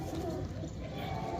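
Pigeons coo softly and continuously in a loft of Andhra Madrasi flying birds, a low murmuring bed with voices and faint scuffing close by throughout.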